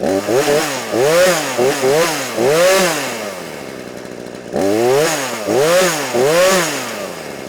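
A Harbor Freight Portland 42cc gas chainsaw runs loud and close, its engine revving up and down in repeated throttle bursts with a short idle dip in the middle, and no one speaking.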